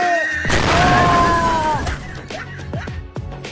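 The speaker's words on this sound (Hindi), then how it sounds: "दिवाली है, एंजॉय करो और लो पटाखे फोड़ो।" A Diwali firecracker goes off with a sharp, loud close bang, followed by a ringing tail and a few smaller pops and crackles as it fades.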